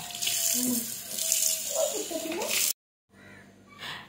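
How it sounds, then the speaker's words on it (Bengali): Tap water runs steadily while cut pabda fish is washed, then stops abruptly and is followed by quieter splashing and handling. "মাছগুলোকে ভালো করে কেটে ধুয়ে ধুয়ে পরিষ্কার করে নিচ্ছি"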